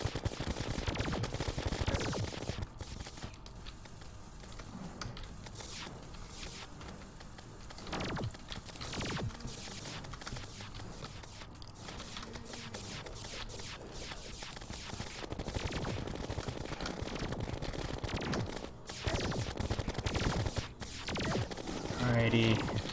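Rapid repeated gunfire from a weapon in the video game Terraria, crackling in dense bursts across the whole stretch with brief lulls.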